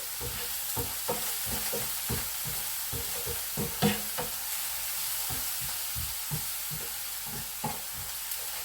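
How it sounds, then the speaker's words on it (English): A mixture frying in oil is stirred until it caramelizes, a steady close sizzle punctuated by repeated knocks and scrapes of a spoon against the pan. "we'll mix it around until it starts caramelizing"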